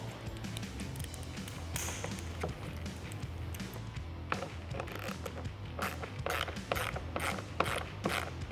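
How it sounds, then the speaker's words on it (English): A hand ratchet drives screws into an aftermarket Morimoto XB LED headlight on a 2018-2020 Ford F-150, giving rapid, close mechanical clicking in repeated bursts over a low steady background hum. "then you can use your ratchet to install them"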